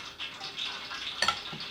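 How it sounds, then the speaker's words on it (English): Grease sizzles steadily in a frying pan on the stove, a soft continuous crackle with a brief sharper burst of spattering near the end, no voices. "I hear this grease over here sizzling"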